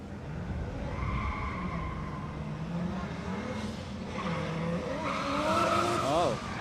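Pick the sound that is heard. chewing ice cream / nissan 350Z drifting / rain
nissan 350Z drifting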